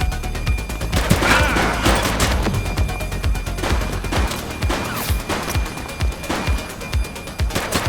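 Heavy gunfire fills a police shootout in The Precinct video game, with dense volleys and sharp individual shots cracking close by in irregular bursts, loud and without speech.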